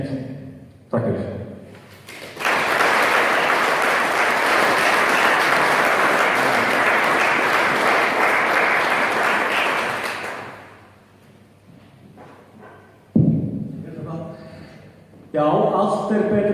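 An audience claps in sustained applause for several seconds at a farmers' gathering about home slaughtering, fading out before brief talk returns near the end.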